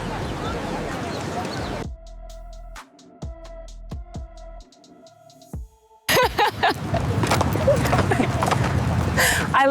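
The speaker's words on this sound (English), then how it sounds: "I love horseback riding." A horse's hooves clip-clop in a short burst of sharp, irregular knocks at moderate distance, set between stretches of dense talking and noisy background.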